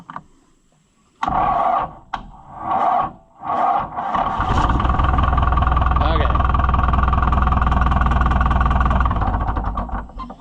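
White Iseki tractor engine, a few short cranking surges with gaps, then running steadily and loudly at idle for several seconds close by, with a voice speaking early on.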